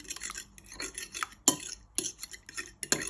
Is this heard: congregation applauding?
no